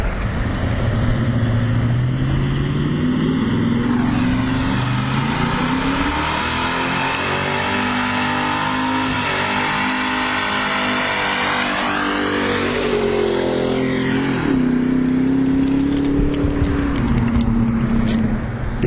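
A 1970 Chevelle SST drag car roars down the strip, its engine revving hard and climbing through gears, loud and close, then fading and rising again as it passes.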